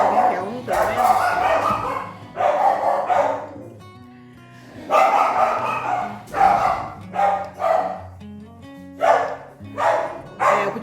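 Dogs bark and yip in repeated short bursts, fairly close, with a person talking between and over some of the barks.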